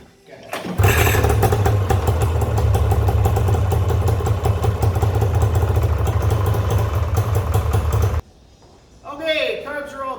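A snowmobile with freshly cleaned carbs starts on a pull of the cord and settles into a loud, steady, rattling idle close by. The engine cuts out abruptly, and a voice follows briefly afterward.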